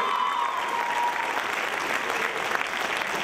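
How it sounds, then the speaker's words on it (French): A live audience claps hard for the technical crew of a show, steady full applause throughout, with a faint tone fading out early under the clapping. "Donc on peut les applaudir très très fort."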